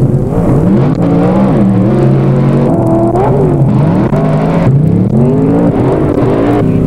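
A race car engine in automobile racing, roaring loud and continuous with rising and falling pitch as it revs and shifts, close and sustained throughout with no voices.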